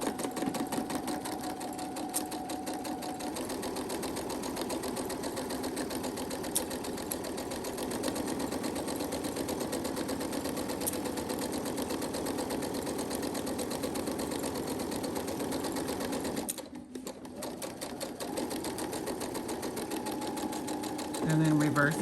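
A sewing machine runs a steady, continuous stitching drone while sewing a half-inch seam across fabric for a fabric basket, loud and close throughout, with a brief pause near the end before it resumes.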